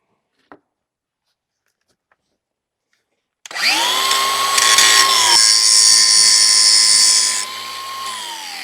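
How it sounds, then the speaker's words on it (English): A power grinder spins up and cuts loudly into the broken end of a size 80 chain link on a Land Pride RTR2072 tiller, making a steady high whine for about four seconds before winding down. "So I got to grind off that end a little bit so I can push it out."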